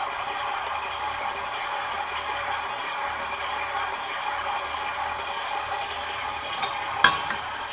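A stand mixer kneads sourdough focaccia dough at a raised speed after salt is added, giving a steady, continuous whirring and rattling hum throughout, with a small clunk near the end.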